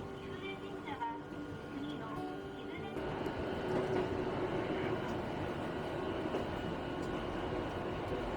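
A train to Kibune Station near Kyoto rumbles steadily, growing louder partway through and holding a continuous low roar, with people talking faintly underneath.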